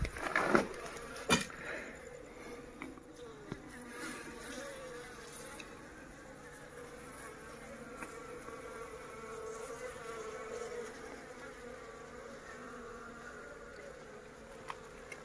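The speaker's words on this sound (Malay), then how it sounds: "dekat belakang tu ada lebah" Bees buzzing on a deserted island make a faint, steady drone in the background, with a few soft clicks and knocks near the start.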